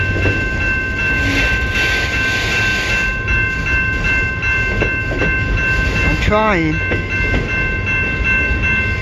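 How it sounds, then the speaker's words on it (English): A long CN freight train rolls past on the tracks near South Rockwood, a steady close rumble and rattle of wagons filling the whole stretch, with a short spoken remark partway through. "It's a really long train."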